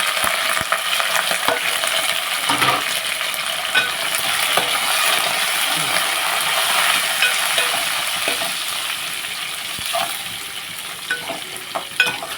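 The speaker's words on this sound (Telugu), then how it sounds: "ఇప్పుడు పోపు అన్నీ కూడా వేసేద్దాం రెండు మిరగాయలు ఆవాలి జీలకర్ర" Mustard seeds, cumin and two chillies sizzle and crackle steadily in hot oil, with sharp little pops and stirring scrapes throughout.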